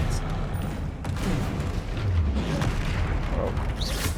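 Spell-casting effects in Hogwarts Legacy, a magic combat game, produce a continuous barrage of booming blasts and crackling impacts that stays loud and dense throughout, with repeated explosive bursts layered over one another.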